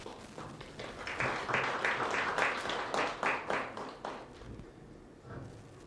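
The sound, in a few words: audience applause welcoming board chairperson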